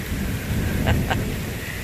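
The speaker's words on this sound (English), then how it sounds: "The rain has finally come." Steady rain falls over a cottage garden, a dense hiss with a low rumble of thunder underneath and a couple of brief brighter spatters near the middle; no one speaks.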